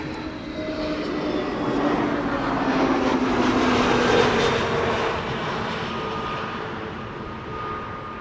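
A steady, loud roar of an EasyJet airliner landing at Amsterdam Schiphol Airport, swelling slightly through the middle and holding a broad continuous rumble throughout.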